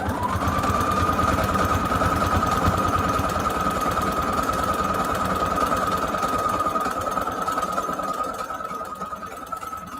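A sewing machine runs steadily as it stitches along a fabric cover for a scrap-made junk journal, a loud, close, continuous rapid mechanical chatter lasting about ten seconds and easing slightly toward the end.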